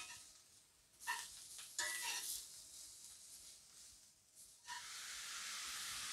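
Mushrooms sizzle and hiss in a hot cauldron, with a few louder crackling bursts as they are stirred, then a steady frying hiss.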